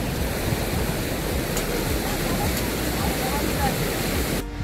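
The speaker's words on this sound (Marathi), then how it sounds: "मस्त सुंदर waterfall on our way to गारबेट plateau through paddy fields." A waterfall on a trek to Garbett Plateau through paddy fields roars as a dense, steady rush of water, loud and continuous from start to finish.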